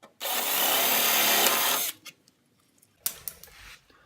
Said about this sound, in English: I'm going to pull the clecos one at a time and then drill that hole out bigger through both